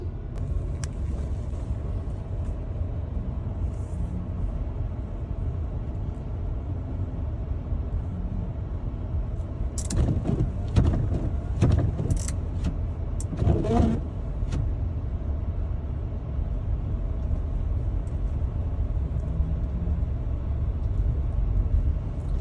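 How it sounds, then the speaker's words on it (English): Car driving slowly along a snow-covered road after a plow has passed, a steady low engine and tire rumble throughout with a few brief clicks and rattles near the middle. "we're gonna head down the road in the snow"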